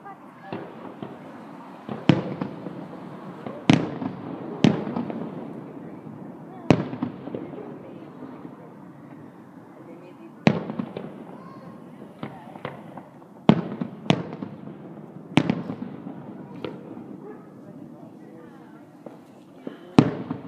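Fireworks burst repeatedly outdoors, with sharp bangs and crackling pops at irregular intervals over a steady rumbling background, loud and distinct throughout.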